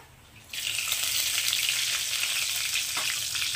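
Cumin seeds and whole garam masala hit hot oil and break into a steady, loud, close crackling sizzle that continues evenly, with no one speaking.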